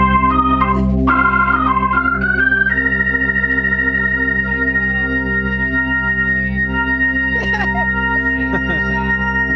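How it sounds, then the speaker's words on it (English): A sustained Hammond organ chord played through a Leslie speaker swells and warbles with a rotating-speaker shimmer, its notes sliding and shifting while the low drone holds underneath. "that's the organ that we just heard a little while ago"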